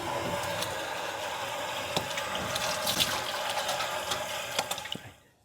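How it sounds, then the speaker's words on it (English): Soap-and-water hand washing under a running tap before a procedure: steady water splashing with occasional clatters, cutting off at the end. "we're going to perform hand hygiene with soap and water."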